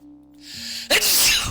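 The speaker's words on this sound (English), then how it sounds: "Apologize for the sneezing." A single loud human sneeze, preceded by a short quiet intake of breath and ending in a sharp burst, close to the microphone.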